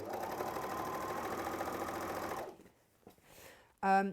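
Sewing machine running steadily as it stitches a folded 2.5 inch quilt strip, a continuous close whirring hum for about two and a half seconds, then stopping, followed by quiet handling noises and a brief louder burst at the end.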